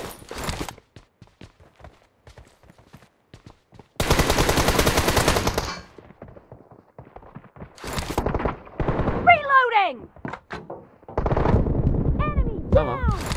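Gunfire in the mobile battle royale game PUBG Mobile: sparse single shots, then a dense sustained burst of automatic fire, followed by further volleys, loud and close, with ricochet-like whines and game effects between the bursts.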